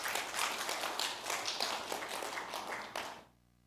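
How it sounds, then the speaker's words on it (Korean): A church congregation applauds together in a sustained burst of dense clapping that fills the room, then cuts off abruptly into near silence at the end. "우리 하나님께 감사 박수를 드리겠습니다"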